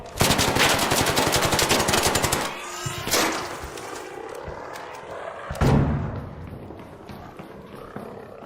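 A rapid burst of automatic gunfire rattles for about two and a half seconds in the video game Arc Raiders, followed by a couple of heavy, booming impacts and a low rumbling backdrop.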